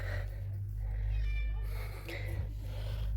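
A pet cat meows a few times at close range in a home, over a steady low hum, with a person talking briefly nearby.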